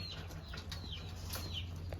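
Pigeons flap their wings rapidly in flight close by, giving soft repeated whooshing beats with faint chirps over a low hum.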